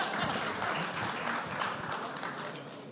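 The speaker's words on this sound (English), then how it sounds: "I think so we can give a bigger applause" Audience at a conference on US-India partnership breaking into steady, full applause, a continuous patter of many hands that stays even throughout the short burst.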